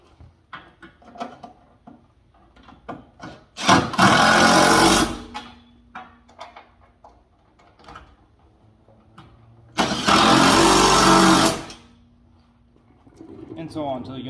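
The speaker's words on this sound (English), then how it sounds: "just put a wrench or a socket on the back side and then hit it with an impact" An impact wrench tightens tube rock rail bolts on a Jeep JT pickup in two loud, roughly one-and-a-half-second rattling bursts, separated by quieter tool handling and clinks.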